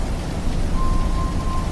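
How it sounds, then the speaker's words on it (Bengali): Steady rain falling during a night car journey after the wind has died down, a dense continuous broadband wash holding at an even level throughout, with no voices. "বৃষ্টি এখনো সমানে চলছে"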